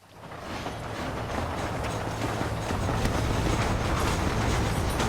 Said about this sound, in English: The train is getting away!